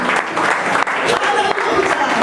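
Applause from a church congregation at a Spanish-language evangelical service, dense and steady for about two seconds with voices mixed in.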